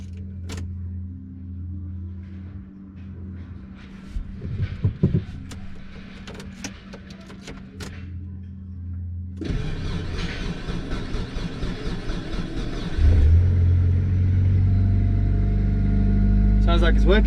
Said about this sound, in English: I hear the pump.